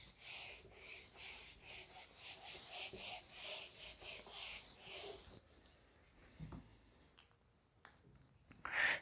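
Rubbing writing off a classroom board during a maths lesson: steady scratchy strokes in a rough rhythm for about five seconds, then fainter scuffs and a closing rub, with some breathing and no clear speech.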